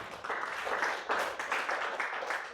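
A church congregation claps in a sustained round of applause after a call from the pulpit, fairly close and steady for a couple of seconds.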